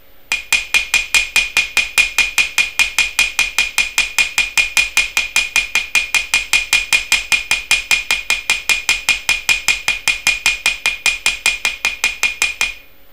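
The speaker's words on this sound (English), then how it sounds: "So I want you to observe my hammer movement here." A hammer strikes wire paddles on a hard surface in fast, even blows, about four to five per second, crisp, close and ringing, continuing steadily for over twelve seconds with no talk.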